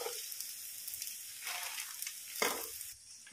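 Curry leaves dropped into hot leftover oil in a pan while cooking catering-style mutton gravy: a steady, bright sizzle and crackle that flares up in two louder bursts, then eases slightly. No one speaks.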